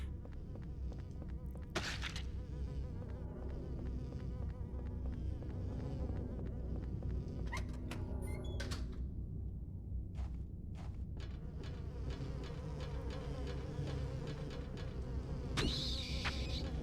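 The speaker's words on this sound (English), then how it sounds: "It is weird because they do have the look of birds, yet they sound like big bees" Low, continuous buzzing like big bees from bird-like creatures in Silent Hill 4: The Room, steady and droning, with a few thuds and footsteps, with no speech.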